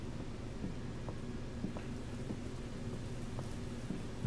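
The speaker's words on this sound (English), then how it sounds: "Still rainy as fuck outside, too." In Resident Evil 2, rain falls steadily outdoors as a constant soft hiss with a low rumbling undertone, even and unbroken, with no voices.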